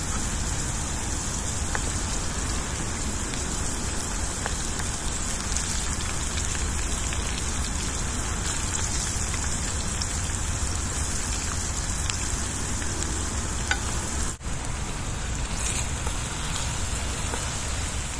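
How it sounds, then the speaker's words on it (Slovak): Food sizzling in oil while frying outdoors by a river, a dense, steady crackling hiss with no pauses, holding an even level throughout with scattered pops. "Pekne sa to smaží."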